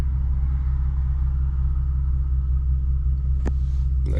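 An Infiniti Q50S exhaust fitted with a Vibrant resonator drones from inside the cabin, a steady low rumble that holds constant throughout, with a brief sharp click near the end.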